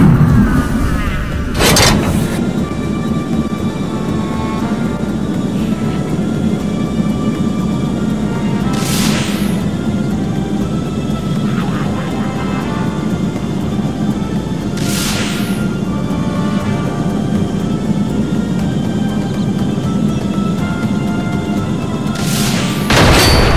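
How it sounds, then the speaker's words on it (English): Flying shots from a Kinect video game on Xbox 360 slam into a castle, with several loud booming explosions spaced several seconds apart over a continuous game backdrop. "The flying shot explodes on impact, so just guide it into that castle."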